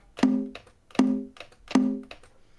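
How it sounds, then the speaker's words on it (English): A conga drum sample of three evenly spaced, resonant hand strikes, each with a sharp attack and a short ringing pitched decay, close and clean, with no other sound. "So here's the sound of a conga."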